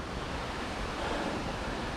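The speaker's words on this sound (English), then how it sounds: "We got the river and a few small waterfalls" A river with small waterfalls in Snowdonia, Wales, rushes in a steady, broad roar of flowing water, close and continuous, with no voices.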